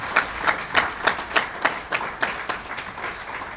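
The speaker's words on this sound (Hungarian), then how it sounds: "kérek szépen a lányoknak egy nagy tapsot még egyszer" A small crowd at an anniversary celebration of a county pedagogical service claps in a loose rhythm, distinct individual claps pulsing a few times per second, nearby and moderately loud, with no talking.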